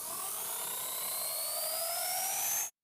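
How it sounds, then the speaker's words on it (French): Compressed-air model helicopter suspended from a string spins up, its whine rising steadily in pitch over a few seconds under a hissing rush of air, then stops abruptly. "Avec l'hélicoptère suspendu à une ficelle sur roulement, il est temps de voir si ça va voler."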